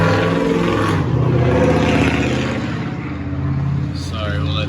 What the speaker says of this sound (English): Sorry, we'll let that loud truck go by.